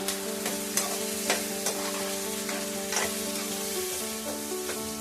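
Potatoes frying in a pan with salt and onions for aloo fry are stirred, giving repeated scraping and clattering strokes over a steady sizzle, close and moderately loud with no talking.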